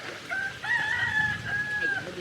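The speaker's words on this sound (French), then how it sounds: "Il y a des petits poulets partout et beaucoup de riz." Chickens in a village set among the Banaue and Batad rice terraces give drawn-out, tonal calls, close and clear over a soft background hum for about two seconds.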